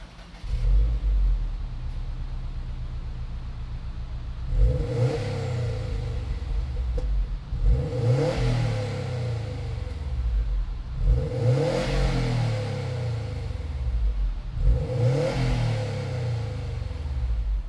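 A 2018 Subaru WRX STI Type RA with an aftermarket catback exhaust idles with a low rumble, then gets revved in four sharp blips spaced a few seconds apart, each rising and falling back to idle.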